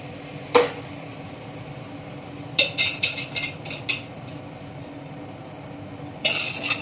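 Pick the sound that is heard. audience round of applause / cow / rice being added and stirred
rice being added and stirred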